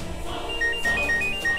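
A mobile phone rings nearby with a repeating electronic ringtone of short bright tones in a steady pattern over a low background hum.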